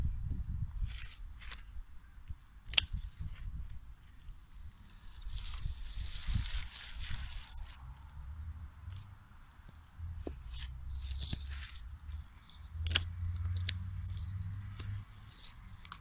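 Asparagus stems cut flush to the ground in a garden bed, with scattered sharp snipping clicks over rustling foliage and a low background rumble.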